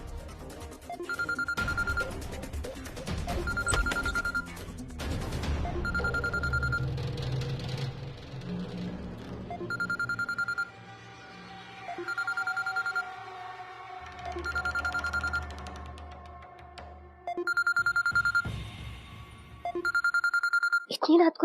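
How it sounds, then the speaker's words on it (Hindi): A telephone rings at night in repeated evenly spaced bursts, a bright electronic tone sounding over music and background voices. "फोन उठावा रज्जो चाची।"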